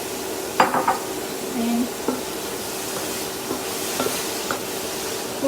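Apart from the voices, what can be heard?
broccoli stir-fried with butter and garlic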